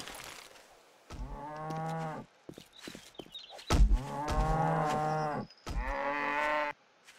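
Cattle in the 7 Days to Die video game give several loud, drawn-out moos in the ravine, spaced a second or so apart, mixed with short thuds and clicks from game hits and footsteps.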